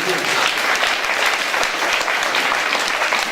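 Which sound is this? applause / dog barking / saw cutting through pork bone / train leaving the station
applause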